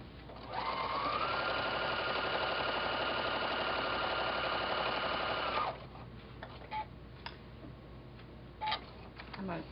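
Sewing machine stitching quilt binding with the presser foot down, running steadily for about five seconds at a fast even hum, then stopping, followed by quiet rustling of fabric.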